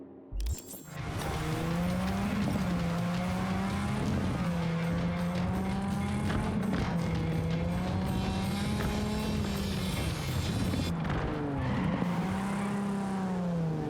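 A car drives in Cyberpunk 2077: a loud, continuous engine drone that rises and falls in pitch as revs shift, running steadily for the whole stretch with no talking.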